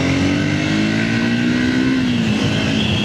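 Triumph Speed 400 single-cylinder motorcycle cruising in third gear through traffic, a steady loud engine drone with a smooth pitch that dips slightly near the end, wind noise over it.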